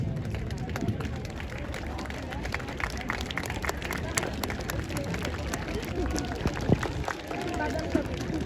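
Audience applause for the two top athletes at a college annual sports meet opening ceremony, steady crowd clapping and outdoor hubbub through the whole stretch, mixed with general noise and scattered voices.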